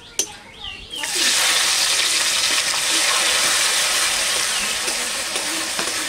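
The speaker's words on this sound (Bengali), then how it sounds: "নাও আর তুমি লাল লাল করে পেঁয়াজটাকে ভাজো দেখি।" Onions sizzle loudly and steadily in a pan over a wood fire after a short initial quiet clatter, a dense close hiss that runs unbroken to the end.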